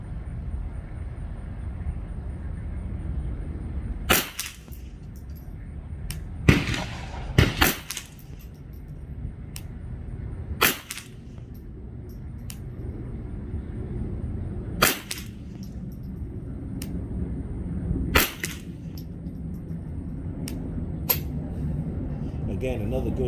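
A custom Ruger 10/22 rifle fires a string of sharp, spaced shots at a 50-yard target, each crack standing out over a steady outdoor background hum, with roughly eight reports in irregular rhythm.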